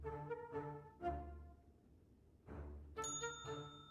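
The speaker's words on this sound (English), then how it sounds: "No hotel front desk is complete without a bell." A hotel front desk bell in the video game Slender Threads rings in several bright, ringing strikes: three in quick succession, a pause, then two more, each fading out.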